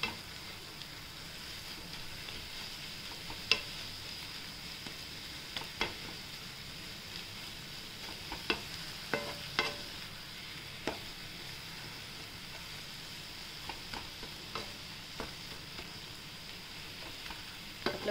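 A besan (gram flour) mixture sautés in a pan with a soft, steady sizzle, while sharp clicks and scrapes from a stirring spoon come at irregular intervals, close but quiet, without talk.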